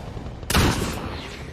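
A single loud gunshot blast from a war film rings out suddenly and then decays into a lingering echo over low background rumble.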